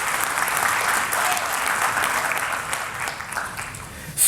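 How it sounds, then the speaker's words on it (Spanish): A church congregation claps in a dense, sustained round that thins slightly toward the end. "Denle un aplauso a ese Señor tan grande"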